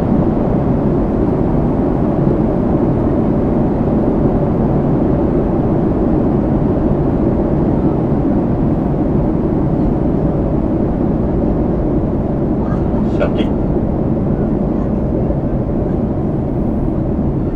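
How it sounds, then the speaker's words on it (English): Loud, steady roar of an aircraft flying a parabolic flight as it accelerates, a dense continuous engine and cabin drone that fills the whole stretch without letting up. "Feel the plane accelerate."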